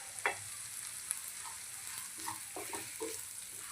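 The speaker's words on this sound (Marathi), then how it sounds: "यालाही छान तेलात आणि तुपात आपण परतून घेऊया।" Crushed roasted peanuts and crushed green chili sauté in oil and ghee for sago khichdi, a soft, steady sizzle with faint stirring clicks close by, quiet and without talk.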